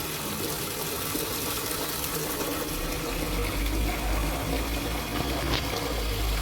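Water runs steadily from a tap in a basement, a continuous broadband gush that fills the space at moderate level with no talking.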